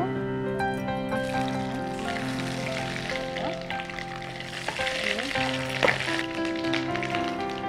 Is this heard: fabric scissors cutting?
no